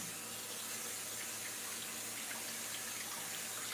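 Raw, peeled and deveined shrimp rinsed under running tap water, a steady, soft hiss of flowing water with no pauses, quiet and close.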